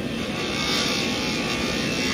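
A Ryobi brushless rotary tool carving wood at 5,000 RPM, a steady, dense whirring grind held close and loud without a break, no speech.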